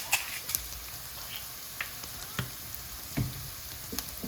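Chicken stew with black peppercorns in a pot, giving a steady soft sizzle with occasional pops and light stirring clicks close by, with no talking.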